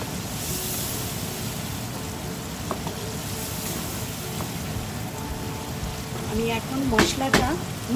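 Spices frying and being stirred in a pan for a taro and prawn curry, a steady close sizzle with scraping stir sounds that swell near the end, over a faint background hum.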